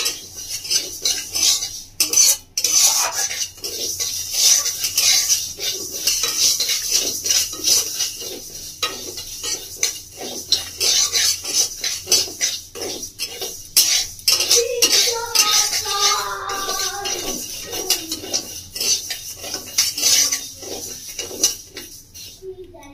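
Moong dal lightly fried and stirred in a pan for a paratha dish, with steady scraping and clinking of a metal spoon against the pan throughout, busy and close, with no talk.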